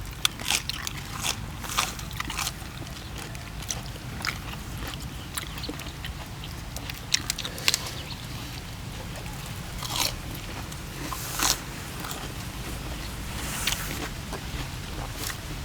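Crisp, crunchy bites into grilled pork intestine (sai on), repeated bite-and-chew crackles at close range over a steady low background, with no talking.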